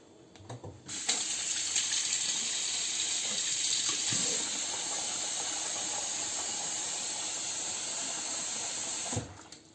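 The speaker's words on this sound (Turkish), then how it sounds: "Mayalanması için sıcak su dökmemiz gerekiyor." Hot water is poured over beets in a container to start fermenting a soup, a steady close hiss of pouring and splashing that runs for about eight seconds and stops abruptly, with faint handling knocks around it and no talk.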